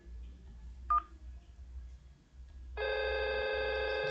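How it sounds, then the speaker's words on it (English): Simulated IP phones in Cisco Packet Tracer: a short dial beep, then a steady electronic ringing tone starting partway through and holding to the end, clean and quiet with low background hum. "It's ringing."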